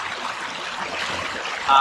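River water flowing steadily around someone sitting in the stream, a soft continuous rushing and trickling close by, even in level with a slight thump at the very end.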